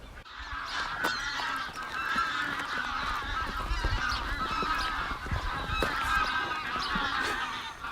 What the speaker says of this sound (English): So that's about 50 geese.